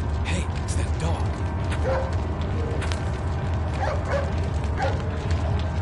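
A dog in a video game barks a few times over a steady bed of in-game mechanical ambience, with a short whimpering yip among the barks.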